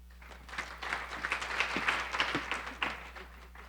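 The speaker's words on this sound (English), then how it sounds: "Please give a round of applause to the very determined Jennifer Carlson." Audience at a women-in-tech event claps for a speaker, a moderate, somewhat distant patter of hands with a low hum underneath, rising and tapering over a few seconds.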